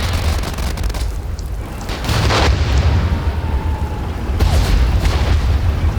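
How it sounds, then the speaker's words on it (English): A landmine goes off in a World War I battlefield game, giving a deep, rumbling boom that swells around two seconds in and again near four and a half, set against continuous low battlefield noise. "Ah, there goes a mine."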